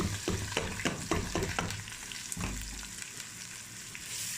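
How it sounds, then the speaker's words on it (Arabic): Rice frying in hot oil in a pot on a gas stove for Egyptian koshari, with pasta and vermicelli added later; a loud, steady sizzle with a few sharp crackles and stirring scrapes early on. "نحمر الرز ونحط عليه المكرونة يتحمر معاه برضه والشعرية"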